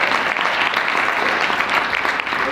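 Audience applause fills a conference hall at an ALSC event in Las Vegas, a steady, dense clapping from a large crowd that holds at even loudness throughout.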